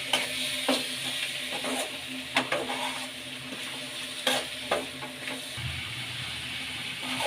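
A radish stir-fry in a pan is mixed after turmeric goes in. Soft scrapes and taps of the spoon come at irregular intervals over a quiet, steady sizzle.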